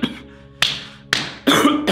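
Several sharp, loud coughs from a person during a church sermon, four bursts spread across two seconds with short gaps between them, close to the microphone.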